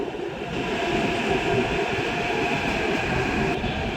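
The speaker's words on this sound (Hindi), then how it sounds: "अभी मेरी मेट्रो आ गई है।" Steady loud rumble and hum of a Hyderabad Metro train arriving at a station, continuous without a break, with no voices.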